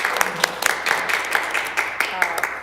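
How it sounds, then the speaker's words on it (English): Round of applause for a newly certified member at a school board of education meeting, with scattered claps rising over a spoken voice that carries through the clip. "I'm going to give you a round of applause"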